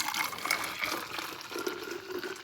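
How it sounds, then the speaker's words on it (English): Warm water pours into a Nalgene bottle at an ice-fishing camp in extreme cold, a quiet continuous gurgling fill lasting a couple of seconds with no talking. "Just put some of that warm water in my second Nalgene"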